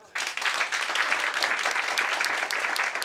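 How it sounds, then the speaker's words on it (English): Audience applause at a company's 17th anniversary celebration event, a dense, steady wash of many hands clapping that starts abruptly and holds at an even level throughout. "Let's give him a hearty clap."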